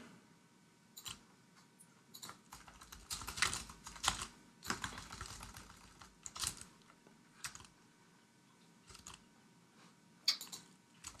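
Fingers tap quickly on a computer keyboard in uneven bursts of crisp clicks and clacks, close and fairly quiet, with short pauses between flurries.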